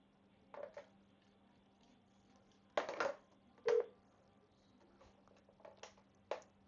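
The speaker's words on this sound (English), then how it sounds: "we'll place a call from here. To the 1-800 number. And that should dial" Keypad presses dial a 1-800 number on an Avaya IP Office desk phone: a few short separate tones with uneven gaps over a quiet room hum.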